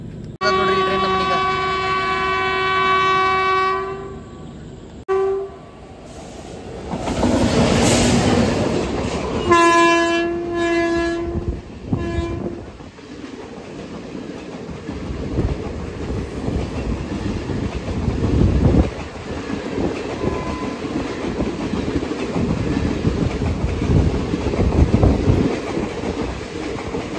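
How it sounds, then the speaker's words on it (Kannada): A Bengaluru to Nanded passenger train arrives at night, sounding repeated horn blasts before its cars rumble past close by with rhythmic clickety-clack, and someone talks intermittently over the noise. "ನೋಡ್ರಿ ಟ್ರೈನ್ ನಮ್ಮನೀಗ"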